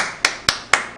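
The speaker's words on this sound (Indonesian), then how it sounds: "Wes, tepuk tangan dong." Three crisp hand claps land in an even rhythm about a quarter second apart, close and fairly loud, during a business presentation event.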